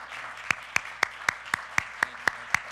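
Audience applause at a career talk event, a steady regular series of distinct claps at moderate distance, fairly faint and without talk over it.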